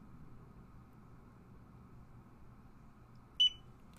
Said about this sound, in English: And you hear the beep for it to reset, and it's back on